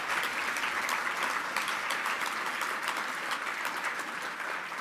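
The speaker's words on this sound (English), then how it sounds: "So another round of applause for the team members at Family Focus." At the 2023 Dream Builders Dinner, the audience applauds in a dense, steady wash of clapping that fills the whole stretch at a fairly even level, with no voices standing out.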